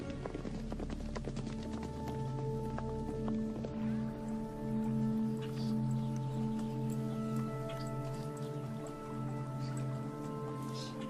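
Horses' hooves clip-clopping at a steady pace, a soft, somewhat distant beat set under sustained, swelling orchestral music that dominates the mix.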